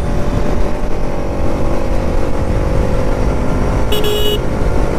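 A Pulsar NS 200 motorcycle rides along a public road toward the Gujarat highway near Nandurbar, its engine a steady, close drone. A short car horn honks just before the end.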